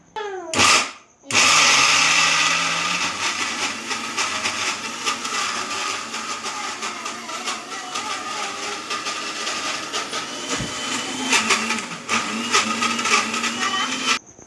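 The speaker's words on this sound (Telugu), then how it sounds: "ఇది వేసిన నెక్స్ట్ మిక్సీ పెట్టాలి." Mixer grinder grinding corn batter for makka garelu, starting with short bursts and then a long, loud, steady whir that runs close and alone until it stops.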